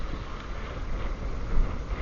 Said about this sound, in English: Sorry about the wind in the background here.